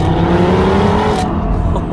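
Audi RS3 8V with the 2.5 litre five-cylinder engine, revving loud and close with a rising raspy note that cuts off abruptly partway through, alone without talk.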